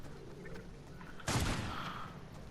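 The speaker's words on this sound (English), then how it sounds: "Yes, I'm shooting at somebody." A sudden burst of gunfire in the video game Fortnite cuts in abruptly, loud and close, then decays into a fading rumble over a low game background.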